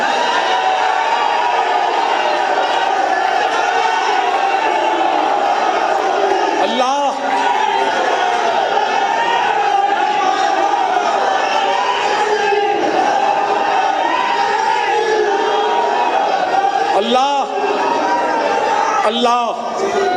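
A large crowd at a rally chants slogans continuously in loud unison, with rhythmic surges and shouts repeating across the stretch, sustained and dense without pause.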